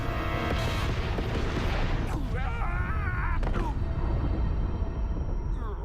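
Missiles launching in a Sonic cartoon: dense rumbling booms and whooshing blasts that fill the scene continuously, mixed with cartoon effects and voices.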